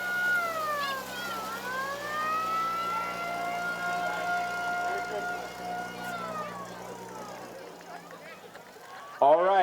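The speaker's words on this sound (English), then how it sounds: "Lohman Companies is up next with their old school fire truck" An old fire truck siren wails in a Christmas parade, sweeping up and down over several slow cycles and fading out, fairly loud, with crowd noise and voices in the background.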